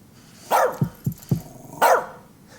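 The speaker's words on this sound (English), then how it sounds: "Keep that dog quiet." Dog barking in the video game As Dusk Falls: a loud bark, then three short sharp yaps, then another loud bark, standing alone without talk.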